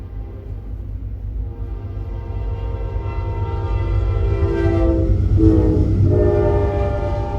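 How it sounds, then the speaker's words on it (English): A train in the video game Halo: Campaign Evolved passes close by, its loud sustained horn swelling and bending in pitch over a heavy constant rumble of the rail cars. "Incoming train."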